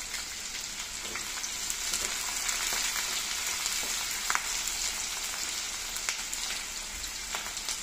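Thinly sliced onions and slit green chillies frying in hot oil, a steady soft sizzle with scattered crackles and pops, heard alone.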